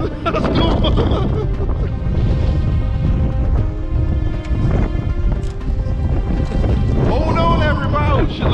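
Strong storm wind blowing across a lake while bank fishing, roaring buffeting gusts that batter the microphone continuously, with voices shouting under the noise.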